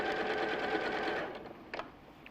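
Domestic sewing machine stitching down the side of a piece of fabric, a steady close whirring run that stops after about a second, followed by a couple of short bursts.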